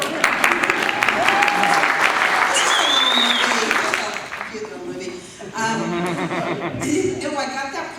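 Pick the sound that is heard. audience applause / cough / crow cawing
audience applause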